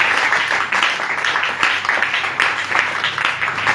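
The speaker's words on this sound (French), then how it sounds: "Acclame plus fort pour la gloire du Seigneur." A church congregation applauding during a sermon on baptism, a dense, steady wash of many hands clapping at once, loud and sustained throughout.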